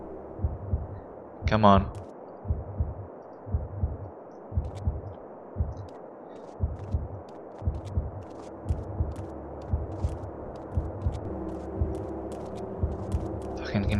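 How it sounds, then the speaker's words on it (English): Low, steady heartbeat thumps repeat about once a second through the whole stretch as tension audio in the stealth video game Manhunt, with one short spoken remark and faint background hum. "I can hear my heart beating."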